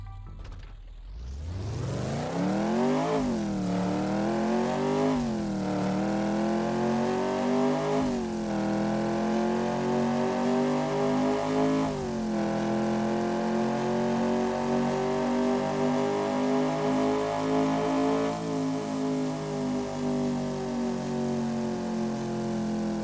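A 2.9-liter naturally aspirated V8 car engine revs up repeatedly, rising and dropping in pitch, then holds a high, loud, steady roar close to the microphone.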